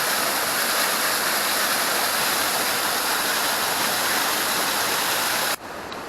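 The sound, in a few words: off-trail waterfall in Oregon forest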